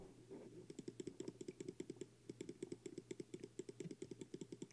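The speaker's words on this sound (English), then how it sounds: "You can probably hear all my mouse clicks right now." Rapid computer mouse clicking while playing Cookie Clicker, a fast steady stream of crisp close clicks in bursts with brief pauses, alone without talk.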